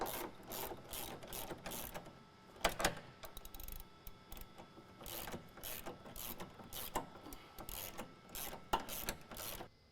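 Ratchet wrench clicking in quick repeated bursts while 13 mm bolts come off the front fuel tank strap of a 2017 Ford Powerstroke 6.7L crew cab, close and fairly loud with short pauses between runs.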